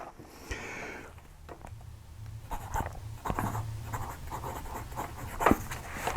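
Fountain pen nib scratching across paper close up, soft irregular strokes and taps in short bursts, with a faint low background hum.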